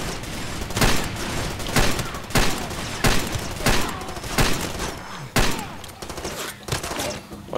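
Desert Eagle pistol shots in the game Far Cry 2 come in heavy, booming reports roughly every second over dense battle noise, loud and close.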